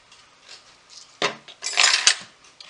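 A spoon stirs cinnamon roll filling with vanilla extract in a bowl, with soft scraping and a couple of louder clattering sweeps against the bowl, brief and close.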